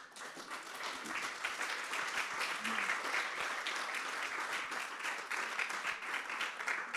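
Audience applause in a conference hall after a panel talk on AI, a steady wash of many hands clapping that holds evenly for about seven seconds, moderately distant with no voices over it.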